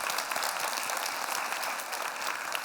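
Steady audience applause at a public science and cooking lecture on fermentation, a dense, even patter of many hands holding at moderate level throughout with no voices over it.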